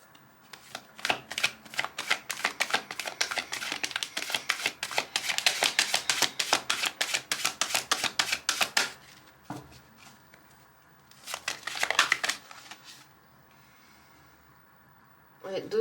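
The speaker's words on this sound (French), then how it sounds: "je vais sortir d'autres cartes" Tarot cards are drawn and shuffled in quick, crisp riffling bursts, then a pause and a shorter shuffle, ending with a brief voice close by.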